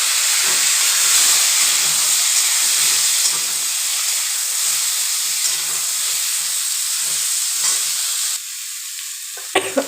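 Vegetables sizzle in hot oil with cumin seeds while paneer is fried in a pan, making a steady loud hiss and crackle throughout with faint stirring, then a brief drop in the sizzle near the end.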